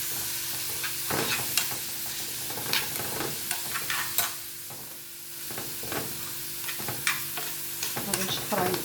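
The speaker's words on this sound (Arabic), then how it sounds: "غادي نردهم فوق المقله حتى يتشحروا" Onion, coriander and parsley sautéing in a frying pan, with a continuous sizzle broken by repeated sharp scrapes and stirs of a spatula up close.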